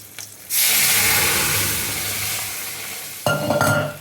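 Dal poured into hot mustard oil bursts into a loud, sudden sizzle that roars for a few seconds and gradually settles, then flares again briefly near the end, with no voices.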